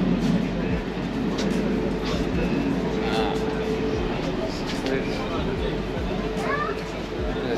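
A steady rumble and rattle of a moving passenger train between Fes and Marrakech, Morocco, fills the space, with people talking faintly in the background.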